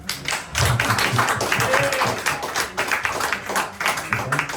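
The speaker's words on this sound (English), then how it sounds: "Round of applause, please." Audience applause at a book launch in Birmingham, a dense patter of hand claps sustained through most of the moment, fairly close and loud, with no talk over it.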